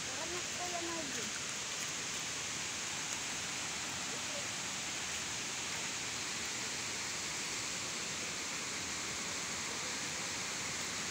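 Steady, broad rushing of a flowing stream fills the whole stretch, a constant loud hiss with no breaks, in New Corella, Davao del Norte.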